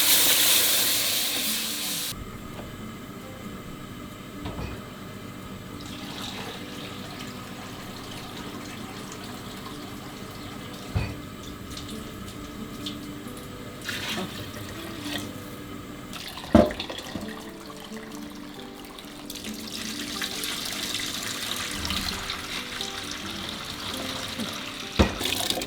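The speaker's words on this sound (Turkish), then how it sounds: "Hələ suyunu tökürəm." Water is poured into a pot while cooking the Zanjan onion dish piyazu, a low running splash that continues under kitchen clatter with a few sharp knocks. Toward the end the flow gets a little louder, and no one talks.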